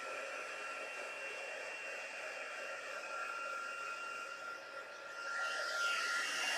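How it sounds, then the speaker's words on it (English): Heat gun blowing a steady, close airy roar while warming and melting Stampin' Up heat and stick powder, rising slightly louder near the end with no talking. "we're going to come in with our heat gun. So it is going to get a little noisy"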